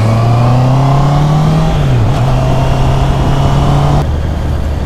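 Loud engine drone of a vehicle overtaking a truck on a long road trip to Real, Quezon, a steady droning hum that dips and shifts gear midway, then continues close until a sudden drop near the end.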